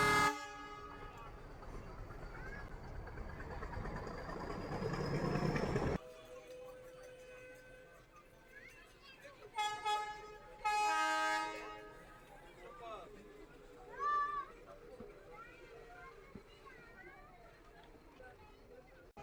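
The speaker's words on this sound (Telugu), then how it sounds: "ఊటీ నుంచి రిటర్న్ బ్యాక్ అవుతున్న ట్రైన్ అనమాట, కూనూర్కి రిటర్న్ వస్తుంది" A toy train's horn blares loudly at first on the mountain railway between Ooty and Coonoor, then fades to a quieter rumble with more horn toots and people talking in the distance.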